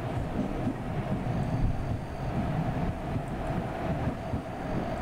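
A train rolls past in Microsoft Train Simulator on the Ganga Kaveri Express route, a loud continuous rumble of wheels and wagons with a steady low roar and windy hiss that never lets up.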